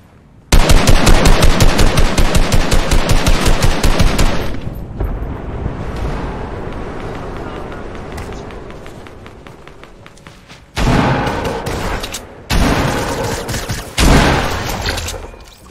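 Rapid gunfire from a video game shotgun fight rattles out in a dense, loud burst of repeated shots, then trails into a rumbling decay before three more sharp blasts hit near the end.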